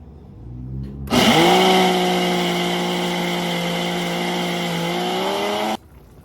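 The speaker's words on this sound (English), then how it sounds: "So now you just have to blend everything." Kitchen blender whirring through egusi soup ingredients, a loud close motor whine that starts abruptly, holds steady for several seconds and then cuts off sharply, with quiet room noise before and after.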